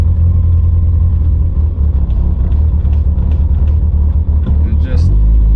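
A Mitsubishi Evo 8/9 with a spongy brake pedal slows to a stop, its cabin filled with a loud, low road and engine rumble that eases near the end, while someone talks over it.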